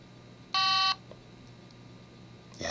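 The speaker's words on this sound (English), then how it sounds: "it makes the cool, old school cell phone noises" An old Motorola cell phone gives a loud, steady electronic beep lasting under half a second. A fainter tone starts near the end, over a quiet background hum.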